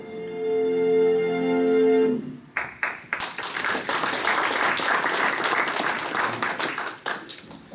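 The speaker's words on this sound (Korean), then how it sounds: "고생했다고 박수 치시죠" A church congregation bursts into applause after a brief stretch of sustained tonal music, the clapping rising into a dense, steady wash that carries on for several seconds.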